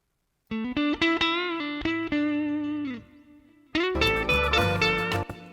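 A music arrangement with a little plate reverb added: bright, distorted synth-like notes in a sustained phrase, a brief pause, then a denser, louder chord passage, with a smooth reverberant tail around the tones.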